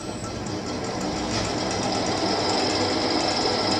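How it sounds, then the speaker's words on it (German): A balancing machine spinning an Audi RS4 crankshaft fitted with master weights, with forged Mahle pistons, giving a steady dense whirring drone with a faint high whine, loud and constant with no pauses. "So, jetzt haben wir die RS4-Kurbelwelle auf der Wuchtmaschine."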